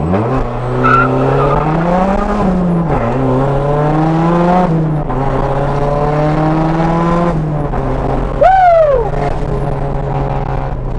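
An engine-swapped Mazda Miata on small tires accelerates hard away from a light. The tires squeal and the engine climbs through several rising revs with shifts between them, loud and close.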